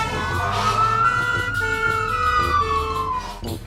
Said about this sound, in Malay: Lihat, ada ambulans menuju ke sini.